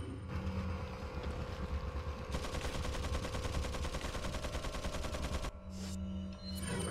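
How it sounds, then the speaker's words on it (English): A shotgun in the video game Resident Evil 4 goes off amid a dense, rapid burst of gunfire, loud and continuous for several seconds over a windy, rumbling game background, with no talking. "It's shotgun time."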